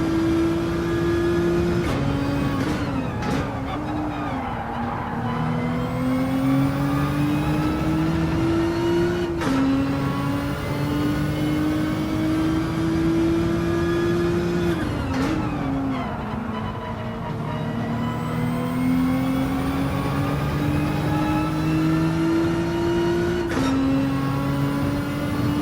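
A race car in Gran Turismo 7 runs down long straights on hard tyres. The engine drone climbs steadily in pitch through each gear, with brief dips at the shifts, loud and unbroken.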